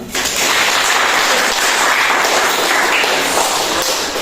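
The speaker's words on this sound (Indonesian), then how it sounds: "Beri tepuk tangan." Pupils in a classroom applauding together, a loud, dense, even burst of clapping that starts abruptly and carries on steadily throughout.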